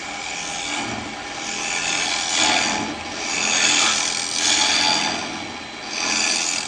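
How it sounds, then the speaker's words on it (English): Woodturning lathe with a 12mm round carbide chisel hollowing wood, a loud, close scraping and rushing cut that swells and fades in repeated waves as the tool is worked back and forth, no talk. "I'm just going to hog a little bit out, as we would do if you was using your carbide to hollow"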